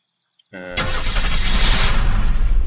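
A car in the video game Unturned starts up and then drives off with a loud, steady engine roar that fills the rest of the short stretch.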